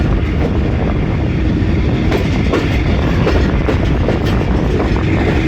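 The Jaffar Express passing through Sihala railway station on a foggy winter day, a loud, steady rumble of rolling wheels and carriages close by, with faint rhythmic clacking over the rails.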